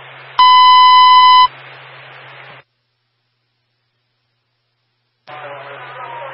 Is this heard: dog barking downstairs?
no